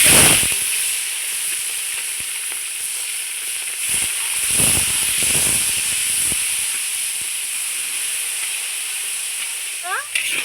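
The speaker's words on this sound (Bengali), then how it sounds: "মাংসটা আমি তেলের উপরে ভেজে নিচ্ছি" Mutton pieces frying in hot oil in a brass wok, a loud continuous hissing sizzle with bursts of stronger spatter and occasional stirring scrapes, close up and steady throughout.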